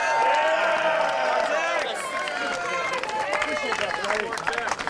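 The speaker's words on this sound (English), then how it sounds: "everybody keep cheering so this looks good on DVD" Wrestling crowd at a live match cheering and shouting in a steady, loud roar with scattered claps and yells, while a nearby voice talks over it.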